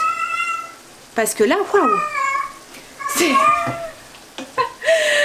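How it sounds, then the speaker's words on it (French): A house cat meows loudly and repeatedly in a kitchen during cooking, several close, drawn-out and rising meows between stretches of someone talking. "je suis désolée pour le bruit hein, mais je peux pas l'empêcher de miauler."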